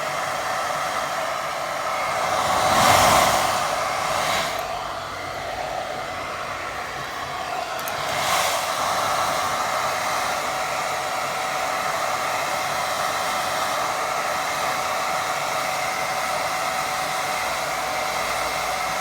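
A hair dryer runs steadily to dry a watercolour painting, a continuous close airy whoosh that swells slightly early on and then holds even for the whole stretch, with no talking.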